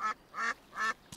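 A duck quacks three times in quick succession, loud and close, followed by a brief faint noise, in an animated cartoon.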